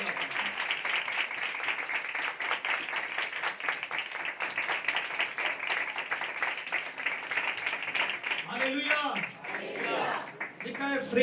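Congregation at a Sunday online church meeting breaks into sustained, dense clapping that runs for several seconds, then fades as a voice begins speaking.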